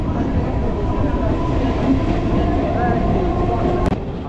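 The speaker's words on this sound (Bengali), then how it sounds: "নন্দকুমার থেকে বন্ধুরা ট্রেন ছেড়ে অলরেডি বেরিয়ে যাচ্ছে" Continuous close rumble and rattle of a passenger train rolling out from Nandakumar station, loud and steady, with a short sharp click near the end.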